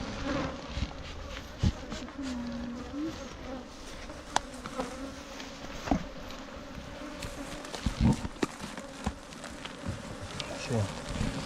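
A dense, steady drone of honey bees comes from an opened hive being built up for almond pollination, with close individual bees buzzing past and a few soft knocks from frames being handled.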